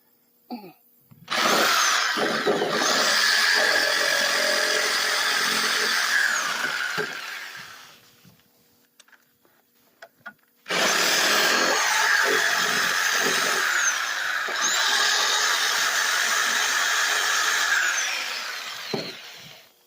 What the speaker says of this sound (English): I'm just going to take the Sawzall.